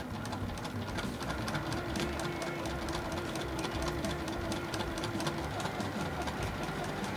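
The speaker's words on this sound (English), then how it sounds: "So I'm gonna take it over to the sewing machine." A sewing machine runs steadily for about seven seconds, stitching lines across a stuffed puff quilt, with a continuous mechanical whir and rapid needle chatter at an even, moderately close level.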